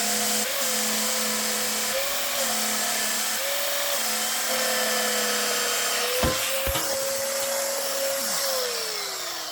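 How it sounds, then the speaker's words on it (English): Steady power-tool whine of a sander working a red oak revolver grip flat, humming continuously with slight pitch shifts and a couple of sharp knocks near the end. "we need to sand this down so it's flat"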